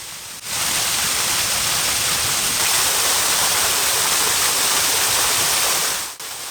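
A small woodland waterfall in Beckley Woods on the High Weald, swollen after weeks of rain, pours as a steady, dense broadband rush that stays loud and even throughout.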